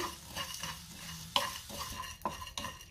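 Whole spices including cardamom pods roast in a dry pan while a spoon stirs them, giving a soft continuous scraping rattle with a couple of sharp clinks of metal against the pan, close and unaccompanied by talk.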